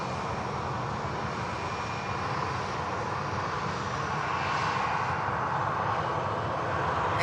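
At Manchester Airport, a Ryanair airliner arriving from Madrid touches down on the runway. A broad, steady engine roar carries from a distance and swells slightly toward the end, with no voices.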